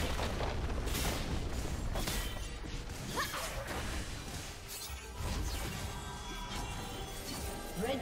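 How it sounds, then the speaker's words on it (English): A turret crumbling in League of Legends, with loud crashing, booming and shattering bursts layered over dense game effects and whooshes across the whole stretch. "Red team's turret has been destroyed."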